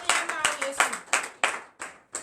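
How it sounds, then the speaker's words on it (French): A church congregation claps and cheers in bursts during a Friday morning prayer service in Benin, roughly six sharp rounds of applause in quick succession, loud and close. "Donnons l'acclamation à notre Seigneur Jésus-Christ"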